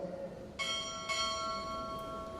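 A ship's bell at a Navy Chief Petty Officer pinning ceremony at Recruit Training Command rings two clear strikes about half a second apart, each leaving a long, bright ringing tail in a quiet hall.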